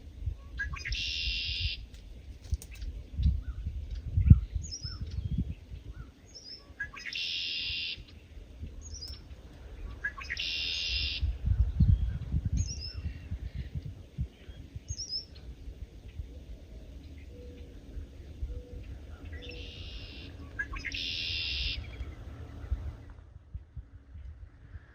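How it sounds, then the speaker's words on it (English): Repeated bright, buzzy calls of red-winged blackbirds ring out at intervals over a low outdoor rumble, clear and moderately close. "And the red-winged blackbirds."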